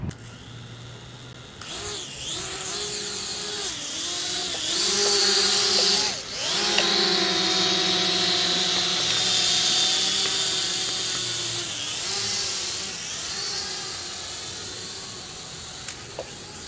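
An ATTOP X-Pack 3 camera drone flies continuously with a loud, steady high-pitched propeller whine and motor buzz, rising and falling in pitch as it maneuvers, close to the microphone.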